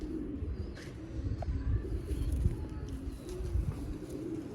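Zeera breed pigeons cooing softly and continuously at close range, low repeated coos over a steady rumble of background noise.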